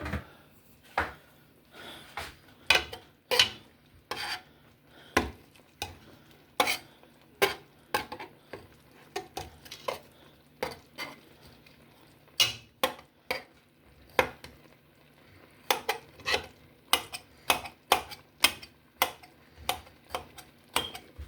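A knife cutting through fried peach cobbler hand pies on a kitchen surface, giving sharp, irregular taps and clicks that repeat in quick clusters with quiet gaps in between.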